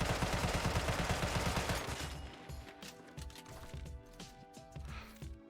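Rapid video game gunfire rattles in a dense burst for about two seconds, then gives way to scattered lighter shots and clicks against a quieter background.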